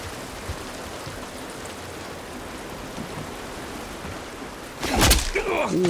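Steady rain hisses evenly in The Last of Us Part 1 Remastered, a constant soft wash of noise, interrupted near the end by a sudden louder burst.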